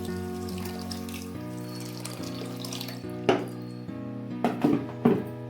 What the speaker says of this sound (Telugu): 1 కప్ షుగర్కి ముప్పావు కప్పు వాటర్ పోసి పంచదార కరిగేదాకా ఉంచుకోవాలి.